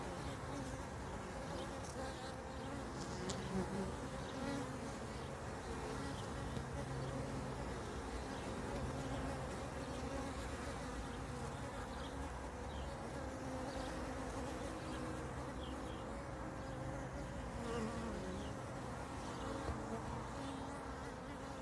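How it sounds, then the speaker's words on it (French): Drone honeybees buzzing around the hive in winter make a faint but steady, continuous droning hum with no break. "on entend les faux bourdons là qui virevoltent"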